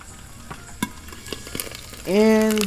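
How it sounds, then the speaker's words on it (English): Three eggs fry in a pan with a little water added before it is covered, giving a crackling sizzle with scattered pops that swells near the end into a louder, steady hissing tone. "So 3 eggs in a pan, then add some water and cover"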